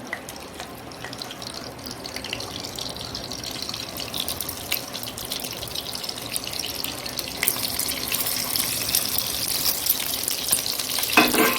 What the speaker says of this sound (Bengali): তেলটা গরম হয়ে গেছে এবার এই জিনিসগুলো পেঁয়াজগুলো দিয়ে দেবো বসিয়ে দিচ্ছি